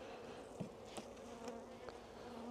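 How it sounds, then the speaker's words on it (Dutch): Honeybees hum in a steady, faint drone at an open hive, with a few insects passing close as brief louder buzzes. "Bijtjes even terug in de kast."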